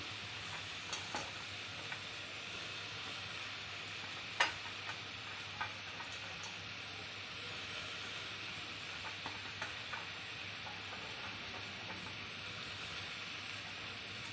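Cut okra frying in oil in a pan for a tamarind okra chutney, a steady close sizzle and hiss running throughout with occasional sharp crackles and light stirring clicks, no voices.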